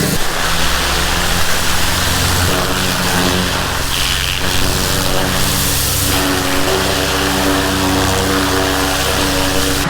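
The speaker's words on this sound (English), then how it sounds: "Looks like somebody started the pressure washer already for me." A pressure washer runs steadily and loudly for the whole stretch, a dense continuous hiss of water spray over a low motor drone, with no pauses and no talking.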